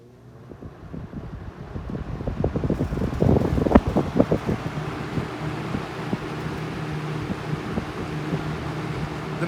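A 1979 Lakewood P-237 electric fan starting up: a low motor hum rises with fluttering, rattling blade turbulence that peaks loudly after a few seconds, then settles into a steady whooshing drone, close, no talking.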